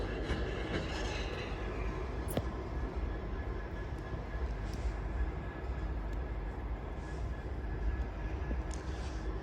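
A train at Crewe station on the West Coast Main Line gives a steady, distant diesel rumble under the station's ambient hum, with a few faint clanks.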